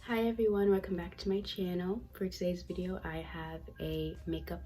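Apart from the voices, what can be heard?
No distinct noise like a dog, phone or traffic.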